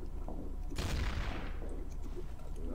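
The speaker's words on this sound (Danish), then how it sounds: "Prøv at skyde igen." A burst of gunfire from a Counter-Strike match sounds at moderate volume partway through, then fades into quieter game ambience with faint sounds.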